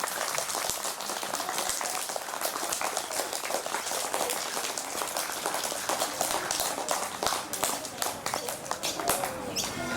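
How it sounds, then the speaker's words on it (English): Children and an audience at a kindergarten award presentation day in a school clap steadily for the award winners, a dense, continuous wash of applause lasting throughout with no break. "give them a big round of applause"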